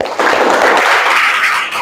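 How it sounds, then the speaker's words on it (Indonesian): Classroom applause for a student, a short burst of clapping from a group of pupils, loud and steady then quickly fading. "Beri aplaus untuk Ari Fadila"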